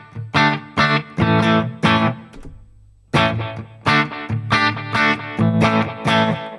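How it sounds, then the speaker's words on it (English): Distorted electric guitar plays rhythmic chords with a short slapback-style pitch delay and reverb tail, pausing briefly midway before resuming. "we got some pitch delay and reverb going on."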